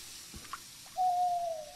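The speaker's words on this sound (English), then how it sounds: "Owl. He's trying to distract me." A single sustained owl hoot from the video game Frosty Nights, steady and fairly loud, following a few faint clicks; no one talks over it.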